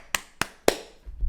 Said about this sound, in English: Let me get up and clap for that.